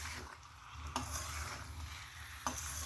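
Amla (Indian gooseberry) cooking in melting jaggery, stirred with a soft continuous bubbling sizzle, faint and close, broken by two light scrapes of the spoon against the pan.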